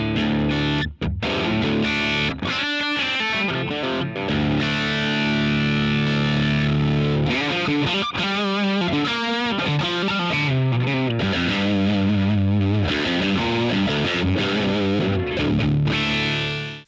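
Electric guitar played through a Dane overdrive pedal on a pedalboard, loud and continuous distorted chords and melodic lines running throughout with no pauses, alone without talk.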